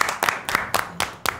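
A brief burst of hand claps for a birthday, about six sharp claps at a steady pace, close and fairly loud, like a small group starting a round of applause.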